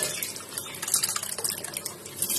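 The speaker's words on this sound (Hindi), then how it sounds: "उड़द की दाल धोते हैं अच्छे से, 2-3 पानी से रगड़ रगड़ के हम लोग इसको धो देंगे।" Water splashes and drips in a kitchen sink as urad dal is rinsed and rubbed by hand for idli batter, soft irregular trickles and drops close by.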